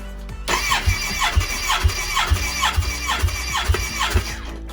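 A Kawasaki ZX14R motorcycle engine cranks over on the starter during a compression test, a loud, steady rhythmic churn with about nine even compression pulses and a whirring squeal, close up with no talking.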